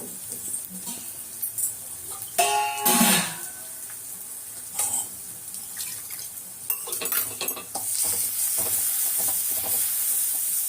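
Grated coconut, dried red chilies, cumin and garlic dropped into hot oil, giving a steady sizzle that swells in the second half, with clinks, stirring noises and brief speech mixed in.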